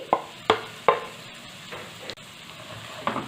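Finely chopped onion sautés in a pan for dhaba-style dal tadka, with a soft sizzle broken by a few sharp stirring knocks and scrapes.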